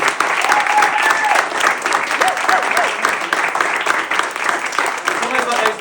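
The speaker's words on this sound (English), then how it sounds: "so a particular round of applause" Sustained applause from a large theatre audience at a launch event, loud and steady clapping that continues without pause, with a few voices faintly audible underneath.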